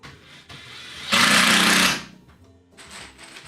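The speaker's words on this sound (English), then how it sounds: "It's gonna be a lot of just zipping screws in" A power driver zips screws into wood during a scrap-wood shelf build, one loud sustained whir of about a second standing out over quieter workshop noise and lighter clatter.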